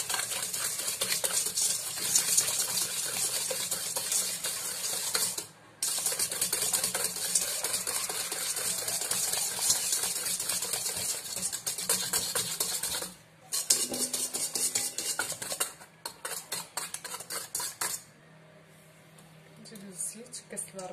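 Semolina dough for Moroccan Eid ghriba cookies being mixed in a bowl, with continuous scraping and clinking of a utensil against the bowl and two brief pauses, close and fairly loud.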